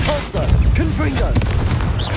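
A Confringo blasting spell explodes in Hogwarts Legacy on PS4 Pro: a short, punchy burst followed by crackling impacts, layered over busy combat effects and a character's voice.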